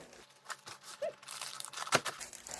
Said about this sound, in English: I'll cut the lettuce with a very sharp knife.